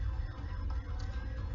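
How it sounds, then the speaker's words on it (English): An alarm blares continuously inside the zombie video game Field Trip Z, a steady, loud electronic wail with a heavy low-end hum and no voices over it. "The alarm has startled the zombies."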